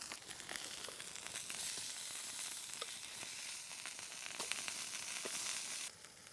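Burgers of butcher's mince sizzle and crackle steadily in a pan at a campsite, a soft continuous fry with occasional sharper pops, heard alone.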